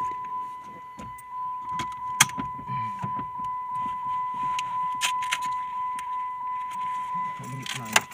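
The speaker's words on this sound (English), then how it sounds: "It keeps dinging even when you take the keys out." A car's warning chime rings as a steady, unbroken tone for several seconds after the keys are removed, mixed with key jangling, sharp clicks and faint voices.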